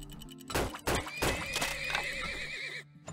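A single horse neighs and whinnies in a stylized video game sound effect, a loud close call rising and wavering for about two seconds with a few thunks at the start.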